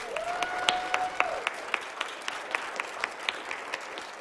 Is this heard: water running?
no